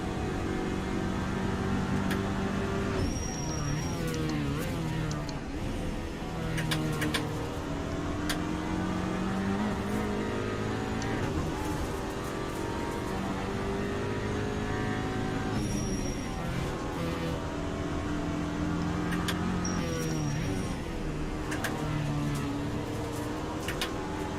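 Skoda Octavia Cup race car at Zandvoort in Assetto Corsa, engine droning and revving up through the gears out of corners, with repeated rises and shifts and occasional tyre squeal, continuous and close.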